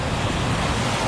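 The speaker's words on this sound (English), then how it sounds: "Just like hitting that scary patch of water in the fast lane of the freeway." A car hits a patch of water at 65 mph, throwing up a loud, continuous roaring wash of spray that sounds close and unbroken.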